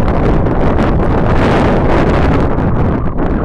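Strong, very cold wind buffets a mountain trekking viewpoint near Sharda and Jalkhad, a continuous loud roar that batters the microphone throughout with no speech.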